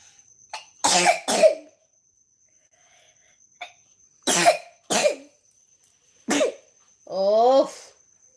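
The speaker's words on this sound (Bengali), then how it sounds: "কাশির ওষুধটা তো দিলাম তাও কাশি হচ্ছে" A person coughs repeatedly in short, harsh bursts separated by pauses, close to the microphone in a quiet room, ending with a longer, throaty cough.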